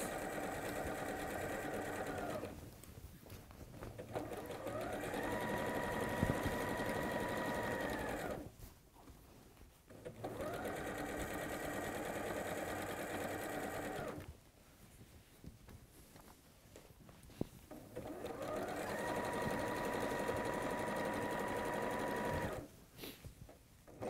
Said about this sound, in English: Stitching takes a little bit longer because when you're zigzag, obviously you're doing more stitches than you would be if you were just doing a straight line.